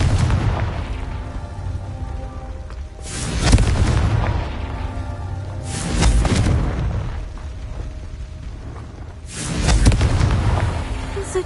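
Confringo fire-spell blasts in the Hogwarts Legacy video game: three heavy booming explosions a few seconds apart, each swelling then fading into a rumbling game backdrop.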